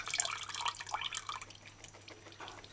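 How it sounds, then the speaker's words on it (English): Water sloshes and splashes inside a can as it is shaken to rinse it in a kitchen, a faint, busy liquid rattle with no voices. "Just pour the water in the can and just shake it and rinse off that."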